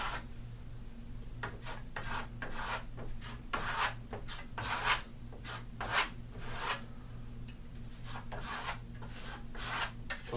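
A steel trowel held flat against a wall works Firenzecolor metallic Dune Africa one-coat finish in circular strokes, giving repeated close rasping scrapes in an uneven rhythm over a low steady hum.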